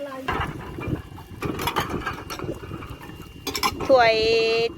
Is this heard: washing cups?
yes